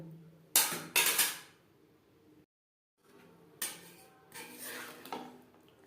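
Matar paneer being gently mixed in a pot, with a few sharp clinks and scrapes of a utensil against the metal, a short silent pause, then more clattering stirs, close and without voices.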